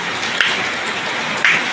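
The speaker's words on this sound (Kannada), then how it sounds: "ಮಳೆ ನೋಡ್ರಿ ಹೆಂಗ್ ಬರೋದು." Rain falls steadily, making a continuous close hiss, with two brief louder splashes breaking through the wash.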